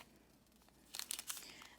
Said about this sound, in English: I'm just going to tape this off for now